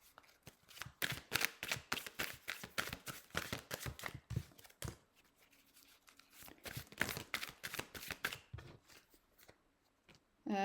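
Tarot cards shuffled by hand in quick, crisp riffling bursts, near and fairly loud, with a short pause midway before the shuffling resumes.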